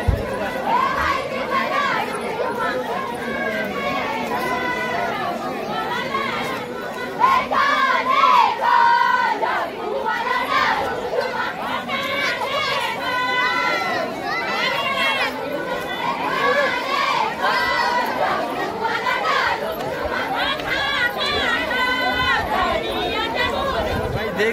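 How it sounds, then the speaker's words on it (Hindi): Dense crowd bustle at the Dwarahat fair market in Kumaon, with overlapping chatter, shouts and calls filling the space continuously, a busy outdoor festival din with nearby voices rising and falling throughout. "देख सकते हो कितनी सारी भीड़ हो रही है आज मार्केट में यहाँ पे"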